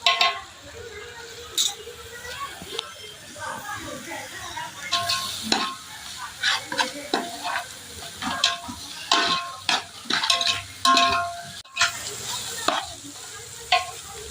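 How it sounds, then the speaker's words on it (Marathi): Vegetables for a veg soup being sautéed and stirred in a pot, with a close, lively sizzle broken by repeated scraping strokes and clinks of the spoon against the metal. "सगळ्या भाज्या चांगल्या परतून झाल्यात."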